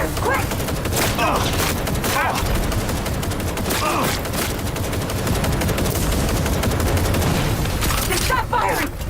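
Dense, continuous gunfire fills a combat firefight in the video game Cyberpunk 2077 Phantom Liberty, with repeated loud bursts and shots layered over shouted voices and game noise throughout.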